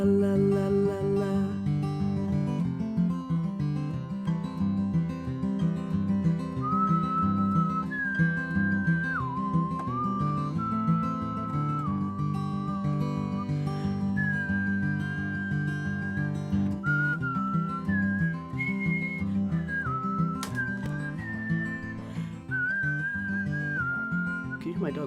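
A person whistles a wandering melody of sustained, gliding notes over a steady bed of music or background sound, the whistle clear and close throughout.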